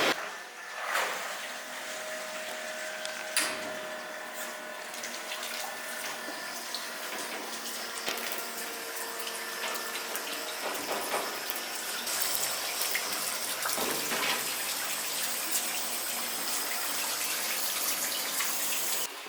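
Water streaming and splashing over an RB28 stroker engine block being washed after a resurface and deck job, a steady hissing spray with shifting bursts, no voices.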